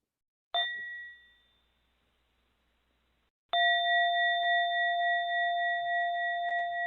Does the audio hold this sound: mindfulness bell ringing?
yes